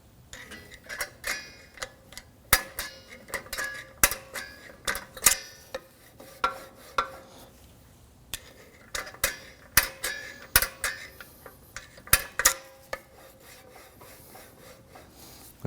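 On the rear brake of a 2013-2015 Subaru XV Crosstrek, the parking brake adjuster is turned with a tool, giving irregular metallic clicks, scrapes and ratcheting ticks close up, with no talking.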